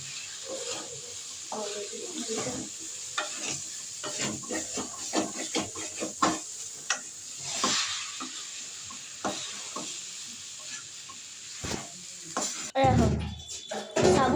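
Chicken seasoned with black pepper fries and is stirred in a pan, with soft sizzling and intermittent scraping of a utensil at close range, while someone talks over much of it and a louder clatter comes near the end.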